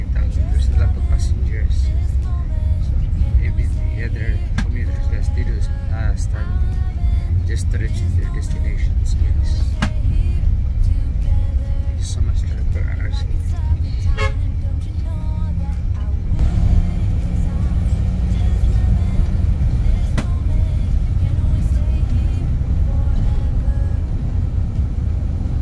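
Cars and buses idle and pass at a busy bus stop where passengers wait, a steady loud low rumble of engines throughout with people talking over it.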